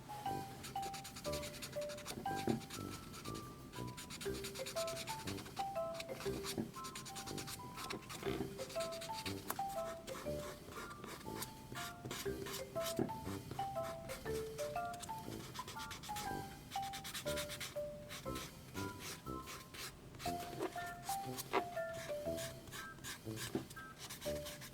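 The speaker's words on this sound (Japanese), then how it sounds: "400番ぐらいで粗く削って OK でいいかなと思います。" 400-grit sandpaper rubs against the nose of a model figure in quick, close scratchy strokes that continue steadily throughout, with faint musical tones playing in the background.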